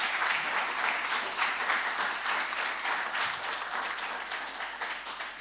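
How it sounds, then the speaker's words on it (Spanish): A church congregation applauding at an evening anniversary service, sustained hearty clapping from many hands, loud and steady throughout with no speech over it. "dé un aplauso si está contento"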